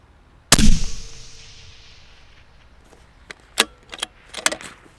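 A 6.5 SAUM rifle loaded with H1000 powder and Berger 156 grain bullets fires one sharp, loud shot that rings and decays outdoors, followed by a few small metallic clicks and clatters of handling.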